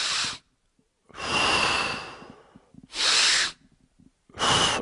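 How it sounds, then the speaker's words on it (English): Slow, exaggerated breaths in a guided breathing exercise: long, loud, hissing inhales and exhales follow one another in a steady rhythm, close to the microphone, with brief silent pauses between them. "Exaggerate your breathing."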